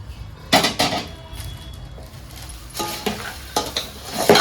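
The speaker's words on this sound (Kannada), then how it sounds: "ಈಗ ನಾವು ಫೈನಲ್ ಆಗಿ ಚುರ್ಮರಿನ ಸೇರಿಸೋಣಂತೆ" North Karnataka-style churumuri: puffed rice tipped into a hot tempering in a pan and stirred, giving several loud rustling, scraping bursts with a faint sizzle between them, close by and with no talking.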